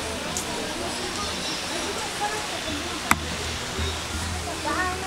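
A man-made river in a tropical-forest park in Tartus rushes steadily, a constant broadband roar of flowing water with faint voices and one sharp click partway through.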